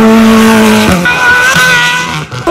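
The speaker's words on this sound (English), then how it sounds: "these are the fastest and loudest cars over a festival speed" Fast, loud race cars in the parade at the 2023 Festival of Speed, with engines screaming close by as revs rise and fall through gear changes, plus a brief tire squeal and no talking.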